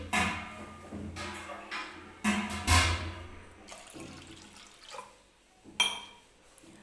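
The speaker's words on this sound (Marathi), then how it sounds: "तर ह्या आपल्याला वरण बनवण्यासाठी या डाळीमध्ये सुद्धा मी पाणी ओतून घेते." Water poured into cooked lentils to make dal comes in several separate splashing gushes with quieter gaps between them, close by and without speech.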